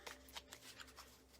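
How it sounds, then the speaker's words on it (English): A deck of cards shuffled at a live reading, a few soft riffling bursts and flicks, quiet and close, with no talk. "I'm going to shuffle here."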